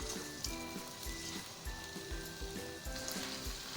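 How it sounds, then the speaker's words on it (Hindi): Beef pieces frying over a high flame in a pot for yakhni pulao give a steady sizzle and crackle, with a faint, rhythmic tapping and clatter of stirring running through it. "और इसके साथ ही हम इसमें डाल देंगे गोश्त। तो हाई फ्लेम पे हम इसको भूनेंगे।"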